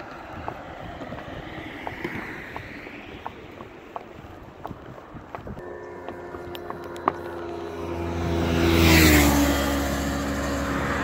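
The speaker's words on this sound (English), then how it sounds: "You can see that car there went flying by, that one too." Cars pass a cyclist at speed on a road, with a rising engine and tire rush swelling to a loud whoosh, over steady wind noise and a hum.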